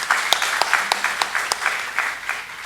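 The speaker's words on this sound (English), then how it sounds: "We can have a huge round of applause for him." Conference audience at a national GST event gives a round of applause, a light, scattered clapping with a few sharper individual claps standing out, steady at moderate volume for a few seconds.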